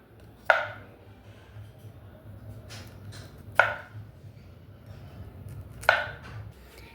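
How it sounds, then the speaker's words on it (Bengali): A knife chops bitter gourd on a board in three sharp, separate strikes a few seconds apart, each one close and distinct against a quiet kitchen background. "এসো প্রথমে উচ্ছেটা কেটে নিই।"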